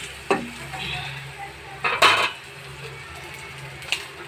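Green chili, dried chili, salt and turmeric are stirred in a frying pan. A few distinct spatula scrapes and clinks ring out over a soft, low sizzle, with no talking.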